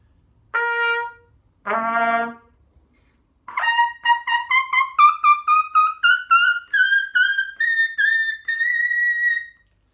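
A trumpet plays two short sustained notes, then a rapid series of tongued notes climbing steadily higher, ending on a thin, very high double high C.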